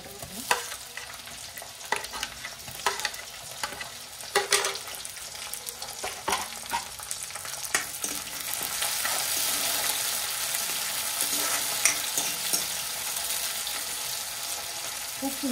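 Onion and tomato cooking in a pan for a bottle gourd bhaji: intermittent scraping strokes of a spoon against the pan come first, then a louder, sustained hissing sizzle takes over for the remainder.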